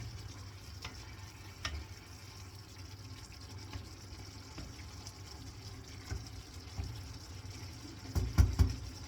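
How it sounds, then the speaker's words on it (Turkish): Zucchini cooks in its own juices in a pan with a soft, low sizzle, and a few clattering stirs come near the end. "Böyle kendi suyuyla pişir kabak."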